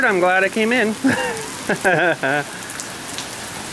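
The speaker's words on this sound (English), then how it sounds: "she's just raining wicked hard" Heavy storm rain pours in a steady hiss beneath a person speaking briefly close by, the downpour continuing as a soft background wash once the talking stops.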